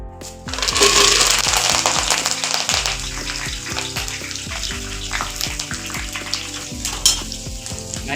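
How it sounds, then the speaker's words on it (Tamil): Curry leaves fry in hot oil with a busy, loud crackle and sizzle, dense popping throughout and steady close spattering with occasional clinks. "இந்த எண்ணெய் கருவேப்பிலையை கொஞ்சம் கொஞ்சமாக சேர்த்து வறுக்கணும்"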